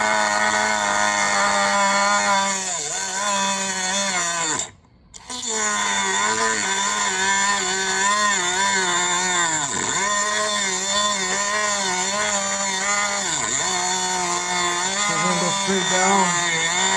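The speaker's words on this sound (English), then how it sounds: "I'm just gonna cut it with the little Dremel I have here." A small Dremel rotary tool cuts through a bolt on a mini bike motor, a loud, steady high-pitched whine with wavering pitch as it bites into the metal, briefly cutting out once before resuming and running on.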